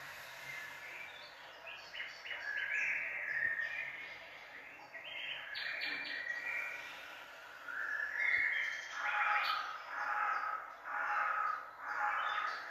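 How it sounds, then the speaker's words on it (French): Crows cawing outdoors in a series of harsh, repeated calls, moderately distant, coming in uneven bursts and then a steadier rhythmic run toward the end. "Les corbeaux, c'est quand même pas chouette hein, comme chant."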